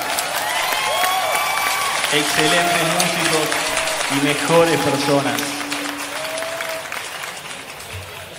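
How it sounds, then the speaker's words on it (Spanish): Live concert audience gives sustained applause for the band, a dense wash of clapping and crowd noise with someone talking over it on the microphone. "Señores, fuerte el aplauso."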